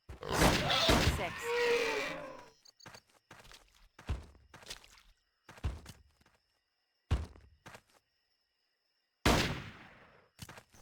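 Sharp, isolated gunshots aimed at raptors in the video game Trespasser, fired singly with quiet gaps between them, after a burst of louder noise at the start; someone talks at points.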